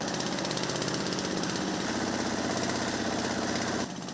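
A grinding machine crushes washed cassava for attiéké, giving a loud, steady mechanical drone that runs unbroken and close up before dropping off sharply near the end.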